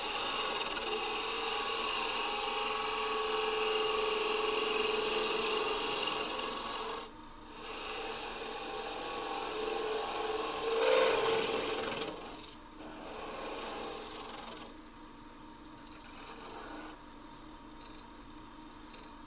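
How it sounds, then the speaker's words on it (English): Wood twig pot turning on a lathe with a 1/2 inch spindle gouge, a steady close rasping scrape that continues for most of the stretch with a few short breaks and changes in pitch where the cut eases off. "Just too much overhang to be safely turning that with a 1/2 inch spindle gouge."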